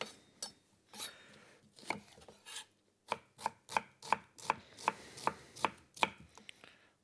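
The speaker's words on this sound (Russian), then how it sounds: "Спокойно нарезается лук." Steady knife chopping of an onion on a cutting board, a run of sharp, evenly spaced cuts at close range, speeding into a regular rhythm in the second half.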